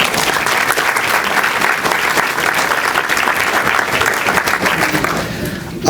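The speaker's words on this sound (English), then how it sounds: "So please give yourself a big round of applause." Audience applause fills a senior recognition breakfast honoring volunteers, a steady, dense clapping that carries at full strength for about five seconds before easing slightly near the end.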